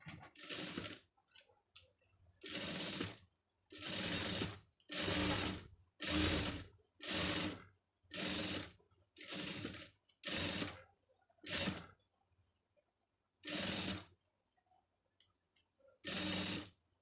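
A sewing machine stitches a pom pom design in about a dozen rhythmic bursts of whirring, each a second or so long and separated by short pauses, close and clear with no talk.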